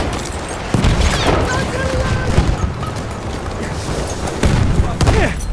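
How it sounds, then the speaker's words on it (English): Gunfire across a Battlefield 1 battlefield, scattered shots and booming impacts rumbling under overlapping voices, loud and continuous with a few sharper cracks standing out. "A lot of fire."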